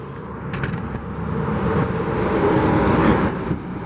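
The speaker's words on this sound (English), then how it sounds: "we've got big trucks coming through here, gonna block the view" Big trucks roll past on a highway at Wallula Gap, Washington, their engines and tyres making a broad, rising rumble that swells toward the end, heard from the roadside with no talking.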